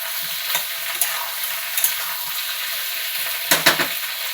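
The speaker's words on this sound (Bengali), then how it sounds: "এবার দিয়ে এটাকে আবার নাড়াচাড়া করবো" Fried taro with tomato and prawns is stirred in a hot pan, steady sizzling broken by several scraping strokes of a spatula, with a quick double scrape near the end, loud and close.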